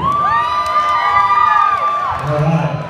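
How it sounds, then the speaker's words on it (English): At a donkey basketball game, an indoor crowd of spectators cheers for the white team with loud sustained shouts and whoops, including children's high-pitched yells, before it fades out. "how many here is going to be cheering for the white team?"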